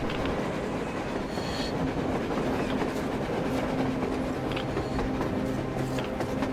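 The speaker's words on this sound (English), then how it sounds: "A train! A damn train on the surface!" A train rolling along on the surface in a post-apocalyptic game world, a steady loud rumble with rhythmic clatter of wheels and a faint squeal, continuous throughout with no talk.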